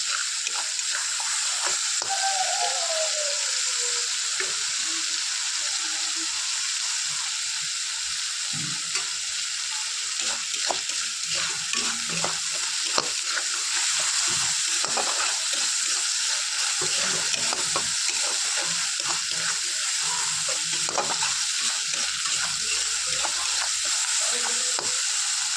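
Spices fry in a pan for egg curry with a constant crackling sizzle, while a spatula scrapes and stirs at irregular intervals close by.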